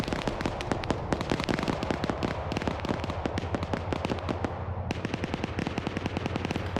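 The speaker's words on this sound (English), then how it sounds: "Machine gun burst went out, knocked out Fubar, Iowa." Machine gun fire rattles in rapid, continuous bursts during an online team video game battle, with sandbags positioned beneath a tree; the loud, dense volley of shots runs throughout without pause and without voices.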